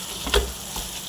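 Tomato curry frying in a pan in a home kitchen in Kuttanad, giving a steady close-up sizzle with a brief louder crackle, and no talking.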